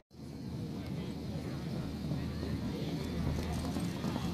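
A horse gallops in a tent pegging competition at Attock City, its hooves drumming rhythmically under a steady wash of crowd and outdoor noise.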